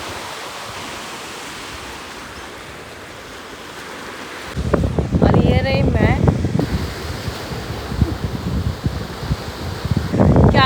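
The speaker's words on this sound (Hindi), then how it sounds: "समंदर।" Ocean surf rolling in with gusty wind buffeting the microphone, a steady wash that grows louder midway as waves break nearby, while someone speaks briefly over it.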